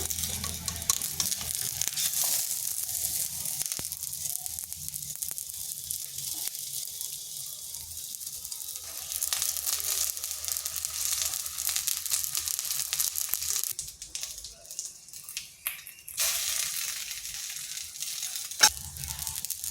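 An egg mughlai paratha fries in a pan over slow to medium heat, giving a steady bright sizzle with a few scraping and clattering touches as it is turned, with no talk.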